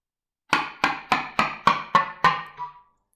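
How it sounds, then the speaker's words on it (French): Reed slapping against a clarinet-style mouthpiece with no breath, seven sharp percussive clicks falling in pitch like a descending scale, evenly spaced and close, with no voices. "petite gamme descendante, sans forcément essayer de faire un son, donc sans souffle, simplement le claquement de l'anche sur bec"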